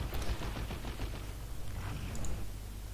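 Rapid, continuous assault cannon fire from Space Marine Terminators in the Dawn of War 2 strategy game, a dense rattling stream of shots under battle noise, steady and fairly loud throughout.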